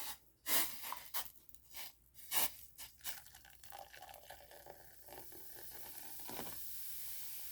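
Boiling water being stirred into Jell-O cake mix, with soft liquid swishing, a few sharp clinks of a utensil against the bowl early on, then a steady faint bubbling hiss.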